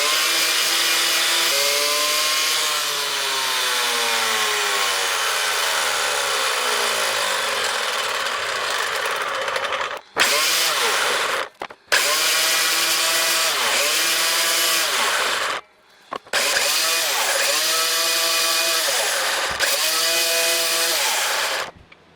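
Sliding miter saw cutting half laps into 2x4 wood: a loud, steady motor whine with the blade grinding through the board, broken by a few brief drops as the cut pauses and resumes, no voices.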